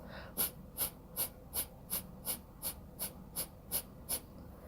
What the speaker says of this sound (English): begin to pump your navel in towards your spine rapidly